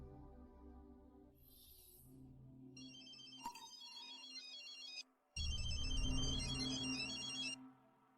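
A telephone rings with an electronic ringtone in a quiet room, repeated patterned tones that grow louder over a low background hum and then stop.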